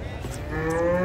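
A large old cow among giant cattle being unloaded from a truck lets out a brief, close, rising moo over a low rumble of background noise.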